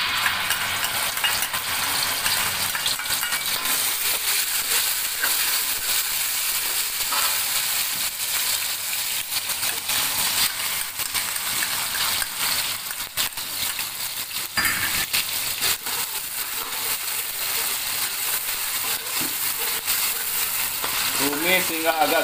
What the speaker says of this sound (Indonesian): tumis hingga agak garing